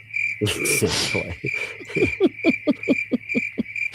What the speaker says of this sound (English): Crickets, you know.